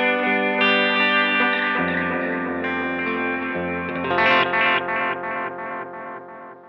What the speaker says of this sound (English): as just kind of a, you know, degraded analog delay sound.